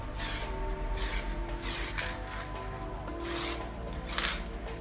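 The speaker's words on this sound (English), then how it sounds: "So what I'm going to do here is quickly spray in a few areas." Short hissing bursts of aerosol varnish sprayed onto a painting in a few spots, close and steady over a low background hum.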